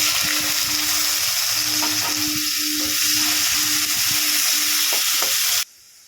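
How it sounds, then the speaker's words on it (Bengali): Onions fry with cumin seeds in hot oil for a Bengali rohu fish curry, giving a loud steady sizzle with spoon stirring scrapes, then the sound cuts off abruptly near the end. "দেখুন পেঁয়াজটা ভাজা হয়ে গেছে অনেকটাই"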